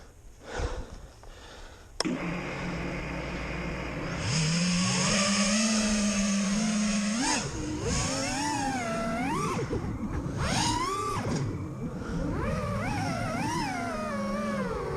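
Brushless motors of a RushFPV Blade F277 analog quadcopter with Sport 50A ESC spin up on a bench test, a loud rising whine that climbs in pitch, then warbles and surges through repeated throttle swells, with a tick before it starts.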